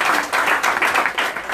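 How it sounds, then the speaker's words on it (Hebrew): Audience at a religious lecture in Haifa clapping: a short, loud burst of dense, close applause that fills the whole moment. "כפיים רבותיי"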